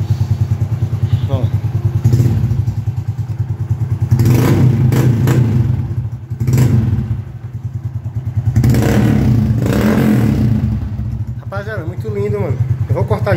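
A small motorcycle fitted with a new exhaust is revved repeatedly up to its rev limiter and back to idle, loud and close, with someone talking between the bursts.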